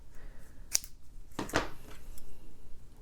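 Scissors snip quilling paper in two crisp, quiet cuts about a second apart, close by against a hushed background.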